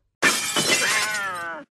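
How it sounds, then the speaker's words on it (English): A single loud crash of glass shattering, with a bright, ringing burst that sustains and fades over about a second and a half. "search for Big Boom with the glass breaking and cat meowing sound effect"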